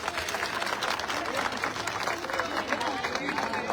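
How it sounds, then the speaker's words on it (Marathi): A crowd at a political rally claps and cheers in a dense, continuous wash of applause, loud and close, with some crowd noise mixed in. "एकदा तुमच्यासाठी प्रचंड जोरात टाळ्या वाजवायच्या"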